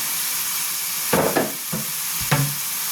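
Dal dhoka mixture stir-fried in a pan, a steady loud sizzle with a few scraping stirs of a spatula breaking through, close by and without talk.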